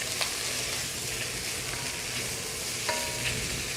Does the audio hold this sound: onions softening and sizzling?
yes